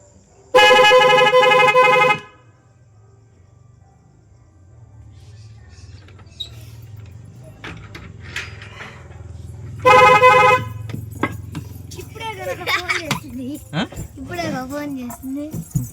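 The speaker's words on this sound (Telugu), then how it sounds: "చూడండి హార్న్ పడతా" A vehicle horn sounds in two loud, steady blasts, the first about one and a half seconds long and the second shorter. Between them is a low engine rumble and background noise, with people talking later on.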